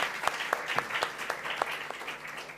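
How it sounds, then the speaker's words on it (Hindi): Loud applause from an audience at a children's bravery award ceremony as a young winner is called onto the stage, steady clapping with distinct sharp claps standing out throughout. "एक बार फिर जोरदार तालियों के साथ निखिल को मंच पर बुलाते हैं।"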